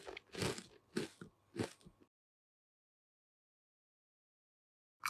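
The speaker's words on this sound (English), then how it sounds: "so let's start eating" Close, crisp crunching and chewing of McDonald's Big Mac and fries in a mukbang, four distinct bites over two seconds followed by silence and a brief sound at the very end.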